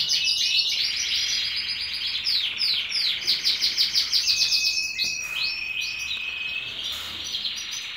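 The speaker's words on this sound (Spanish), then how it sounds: "Precioso pájaro." A small bird chirps and tweets rapidly and close by, high bright calls repeating throughout, while it is held and fitted with a leg ring, with no talk.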